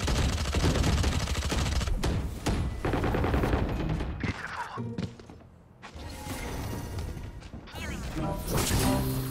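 Weapon fire in the shooter game Valorant: dense, loud bursts of shots and impact crashes running through most of the clip, with a brief lull midway before the firing resumes.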